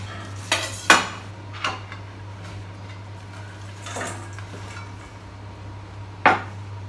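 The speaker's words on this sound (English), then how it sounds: "I just like to go down and shave off the edges like that, turning around as you need to" A knife shaving the edges off a cabbage on a cutting board gives a few separate short scraping cuts spaced seconds apart over a steady low hum, close by and with no talking.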